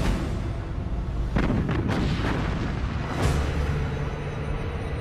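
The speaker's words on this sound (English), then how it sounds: "Bismarck opens fire." Heavy guns of the battleship Bismarck fire in a cluster of deep booms, several shots close together followed by one more blast a moment later, each rumbling and fading over a continuous low background.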